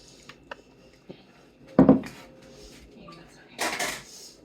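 A spoon is fetched for garlic in a home kitchen: a few light taps, then a louder drawer slide and rattle of cutlery, followed by more rummaging clatter nearby.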